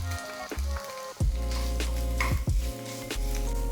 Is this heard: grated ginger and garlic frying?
yes